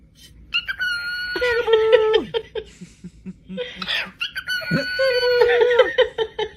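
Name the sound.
bird clucking in a played video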